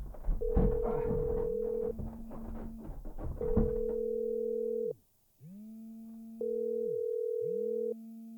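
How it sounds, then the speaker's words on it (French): A telephone dial tone hums, then dialing tones and a repeating ringback pattern follow, with muffled voices murmuring early on. "Pierre frappe contre le mur, puis appelle Jean sur son téléphone."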